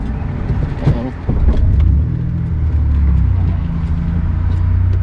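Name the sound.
Toyota Celica car engine running, then stalling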